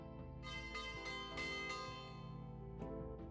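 A bell rings for lunch aboard the steamer in the Death on the Nile video game, several resonant clangs sounding over a sustained musical background, each strike ringing out and decaying.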